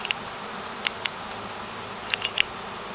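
A honeybee swarm hums as a dense, steady buzz filling the air, with individual bees zipping past close by in brief bright passes, outdoors among branches.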